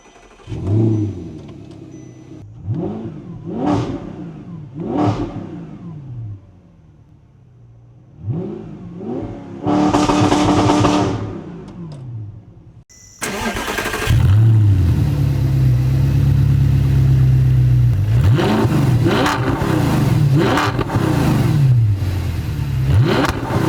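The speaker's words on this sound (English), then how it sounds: "And it does have a Rev9 stainless steel exhaust. So let's go ahead and see how it sounds." Audi R8 with a Rev9 stainless steel exhaust, revving repeatedly from idle in sharp rising blips, then settling into a loud, sustained roaring run with more quick throttle stabs, close and unaccompanied by talk.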